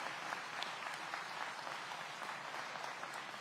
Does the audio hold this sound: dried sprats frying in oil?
no